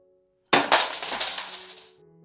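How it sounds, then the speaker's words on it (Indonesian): Drinking glasses and plates get knocked over and shatter in one sudden loud crash, followed by a spray of tinkling shards that fades out over about a second and a half, with no talking. "Oh, maaf Nona Salma, saya gak sengaja menyenggol gelas dan piringnya."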